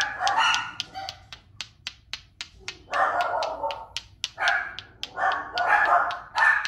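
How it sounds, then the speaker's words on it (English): Dogs barking in quick succession, with sharp, fairly loud barks repeating in uneven bursts alongside short clicking sounds throughout, with no talking. "And if you hear my dogs barking"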